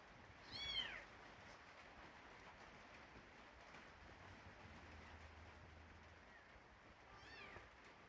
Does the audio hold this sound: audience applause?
no